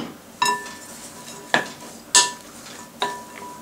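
Chopped corned beef, potatoes and onions mixed together in a bowl, with four distinct clinks of a utensil against the dish spaced about a second apart over quiet background, close and fairly loud.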